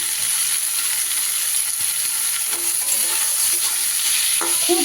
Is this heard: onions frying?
yes